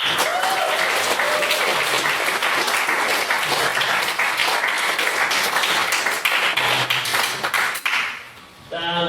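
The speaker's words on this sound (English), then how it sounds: "if we could get a second round of applause for what was Chloe's main speech" A debate audience breaks into loud, sustained clapping at a formal debating event, the applause dense and continuous before it thins and fades out near the end.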